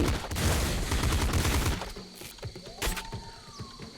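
Rapid bursts of video game gunfire from Nuclear Throne, dense and continuous for the first half, then thinning into scattered shots and sharp impacts with a rising electronic tone, loud with no talk.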